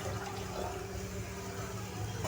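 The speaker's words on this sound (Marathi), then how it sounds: "तर ह्याच्यामध्ये मी अर्धा ग्लास पाणी ऍड करणार आहे।" Half a glass of water poured into a pot of kadhi, a steady close gurgling, splashing pour that continues throughout without any talk.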